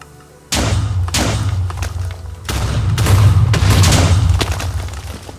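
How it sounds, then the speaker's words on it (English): Loud booming blasts in a video game, a quick series of heavy thuds and crashes hitting close one after another, rolling into a sustained rumbling roar. "Wait for the explosion."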